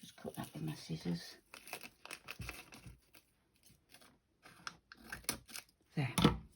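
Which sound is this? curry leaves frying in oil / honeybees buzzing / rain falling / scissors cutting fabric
scissors cutting fabric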